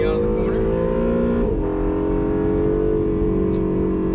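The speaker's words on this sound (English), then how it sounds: "And you'll feel those electric motors pulling you out of the corner." A 2017 Acura NSX hybrid pulls out of a corner under its electric motors, giving a loud, steady, close droning tone that holds nearly constant with a slight dip partway through, continuous for the whole stretch.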